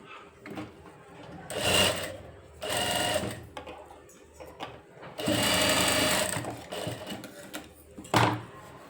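A domestic sewing machine stitching a lined blouse runs in several short bursts of whirring needle clatter, separated by pauses with small handling knocks.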